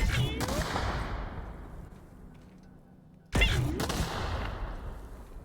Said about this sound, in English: shrinking it makes the explosion smaller